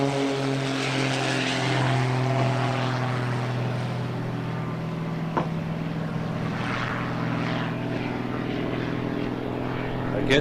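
A propeller airplane flies at an air show, its engine a loud, steady droning hum that holds for about ten seconds, with some talk alongside.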